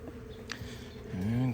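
Honeybees buzzing around an open hive during a February inspection, a steady low drone close by that swells louder near the end as a bee passes near.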